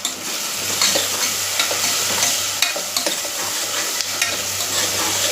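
Chopped onions and two medium tomatoes sautéing in a hot pan, giving a steady, close sizzle with the scrape and clatter of a spoon stirring through at intervals.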